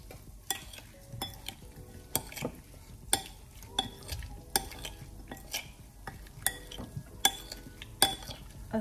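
Soy sauce and olive oil being stirred into rice in a pan for pilaf, with a regular clink and scrape of the utensil against the pan about once a second over a soft sizzle.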